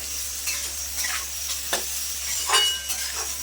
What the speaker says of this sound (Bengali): তো পেঁয়াজটা একটু লাল লাল করে ভেজে নেবো